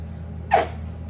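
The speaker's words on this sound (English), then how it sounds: "What kind of sneeze is that?" During a precalculus review class, a single short, sharp sneeze bursts out once against a steady low room hum, brief and moderately loud.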